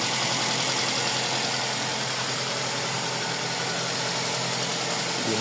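A Toyota Avanza engine runs at a steady idle after starting, with a continuous even drone and no talking over it, heard in a workshop after evaporator and compressor repair work.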